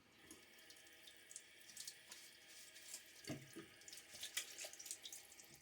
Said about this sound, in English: Splash a little water on my face.